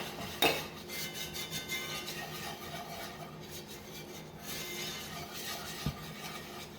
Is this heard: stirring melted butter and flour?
yes